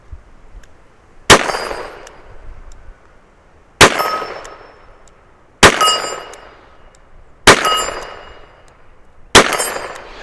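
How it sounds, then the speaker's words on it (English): Colt Python .357 Magnum revolver shooting .38 rounds: five crisp, evenly spaced reports about two seconds apart, each with a bright metallic ring and a short decay, with no talking. "Very gentle on the hands to shoot those 38s. Let's shoot 6 more of them"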